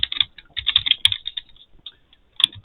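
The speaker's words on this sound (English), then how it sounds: "let's just type that in for now" Close, crisp keystrokes on a computer keyboard come in quick bursts with brief pauses, and a final cluster of taps follows a short gap.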